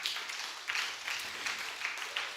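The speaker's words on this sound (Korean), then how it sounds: "박수 한번 부탁드리겠습니다." A church congregation applauds during a Sunday morning testimony service, with a steady, grainy wash of many hands clapping at moderate distance and no voices over it.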